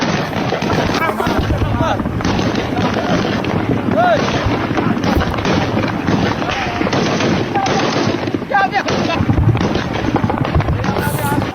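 Dense, continuous gunfire in Sanaa, Yemen, with rapid overlapping shots and bursts filling the whole stretch at steady loudness, while voices shout faintly underneath.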